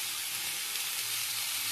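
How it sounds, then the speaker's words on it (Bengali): Barma greens (saag) fry lightly in a pan with a steady, even hiss of sizzling. The sound is close and unbroken, and no one speaks. "এবার আমি হালকা করে ভেজে নেব"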